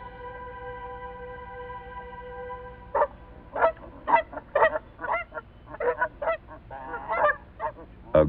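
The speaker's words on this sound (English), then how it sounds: "a resident pair of Canada geese is nesting" A nesting pair of Canada geese honks loudly and repeatedly in a series of harsh, close calls that follow a steady humming tone.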